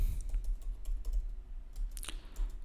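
Quick, irregular keystrokes clatter on a computer keyboard close by as a short word is entered, with no speech over them.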